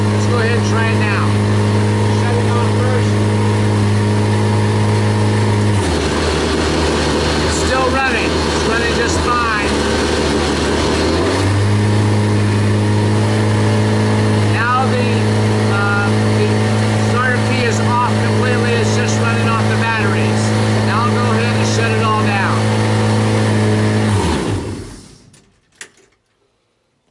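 A Viking 130 aircraft engine running steadily at first start, a loud, close, continuous drone that rises in speed as it warms up, shifts in pitch midway, then cuts off abruptly near the end.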